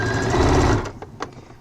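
Sewing machine stitching a seam on a multifunction fabric wallet, a fast close mechanical whir that runs for under a second and then stops, leaving a few light clicks.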